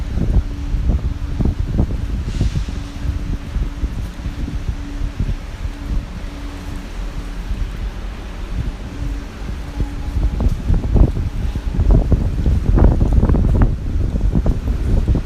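Heavy wind buffeting a microphone, loud rumbling gusts throughout with no voices.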